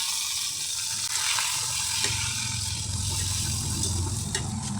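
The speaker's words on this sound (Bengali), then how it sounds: "এখন আমি কাঁচামরিচ আর পেঁয়াজ কুচি দিয়ে দিব।" Chopped onion and green chilies fry in hot oil alongside garlic that has already browned, making a loud, continuous close-up sizzle that holds steady from start to finish without voices.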